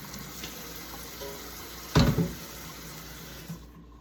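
Tap water runs steadily while a cast iron pan is rinsed under it, with a brief louder splash and clatter midway, close and fairly quiet throughout.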